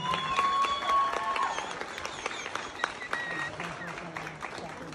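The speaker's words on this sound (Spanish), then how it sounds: "que se escuche un aplauso de todos para que sepa nuestra quinceañera cuánta gente está aquí con ella esta noche" Guests at a quinceañera party clap together in a steady, loud burst of applause filling the room, with some chatter and a few cheers mixed in.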